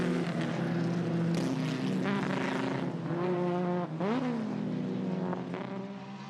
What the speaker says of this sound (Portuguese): A luta entre o Lola T70 e o Porsche foi uma constante ao longo das voltas ao difícil traçado de